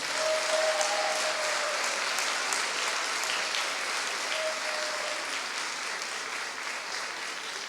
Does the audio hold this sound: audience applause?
yes